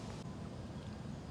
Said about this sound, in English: It is kind of windy outside